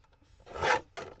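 Pattern paper sliding through a paper trimmer, with two short rasping cuts in quick succession, close and fairly clear.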